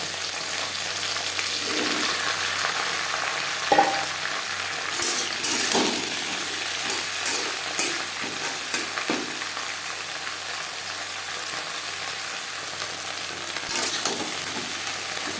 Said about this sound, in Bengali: দিয়ে দেবো টুকরো করে কেটে রাখা ভেন্ডি